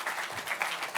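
Applause from the gathered members at a party caucus meeting held to elect committee chairs, a dense continuous patter of clapping throughout.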